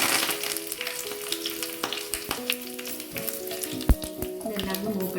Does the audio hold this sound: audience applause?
no